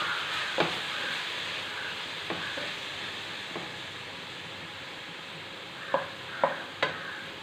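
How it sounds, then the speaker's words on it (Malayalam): Onions fry in a pan with a little salt while being stirred, a soft continuous sizzle under a few scattered spoon taps and sharper clinks near the end, close and unaccompanied by speech. "നല്ലപോലെ ഒന്ന് ഇളക്കി കൊടുക്കാം"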